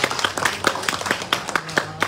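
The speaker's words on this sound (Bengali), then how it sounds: "ওনাদের জন্য একটা হাততালি হবে, বড় ধরনের হাততালি হবে।" Audience applause at a formal gathering honouring a chairperson and principal: a short burst of scattered, fairly close hand claps with a steady uneven rhythm, a faint voice underneath.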